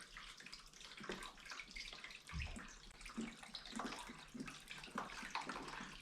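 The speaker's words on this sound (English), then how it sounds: "I'll pour some more of that in there" Rust remover inhibitor liquid poured into a container during work on a 1931 Buick trunk rack, a continuous splashing trickle with a brief heavier gurgle partway through.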